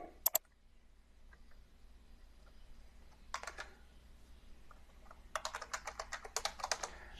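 Someone types a login on a computer keyboard at a Windows Server machine: short bursts of rapid, close key clicks separated by quiet pauses, with no talking.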